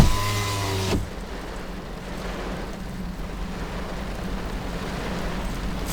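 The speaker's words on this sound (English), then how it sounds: "It wasn't raining out a second ago, and now it is." Rain falls outside a car parked at a railway station, a steady hiss of drops after a brief loud burst at the start, continuing evenly with no talk.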